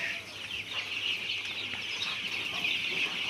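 Sixteen-day-old chickens in a rice-husk-bedded farm shed, a continuous dense chorus of soft high peeping and clucking from many birds close by.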